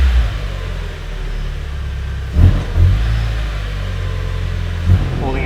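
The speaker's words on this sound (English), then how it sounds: "it's not even revving, it's trying to stall" A faltering Mazda Miata engine bogs and stumbles instead of revving, with a low uneven rumble and a few weak surges as it tries to stall, heard up close with faint talk.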